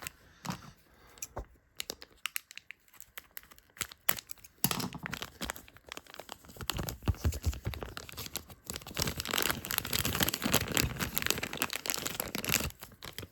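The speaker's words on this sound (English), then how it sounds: "we'll just do a little snip and a little snip" Scissors snip through plastic Transformers Evergreen Prime Changers Optimus Prime toy packaging, with close, crisp cutting and crinkling bursts. It starts sparse, then turns into dense, continuous rustling and tearing.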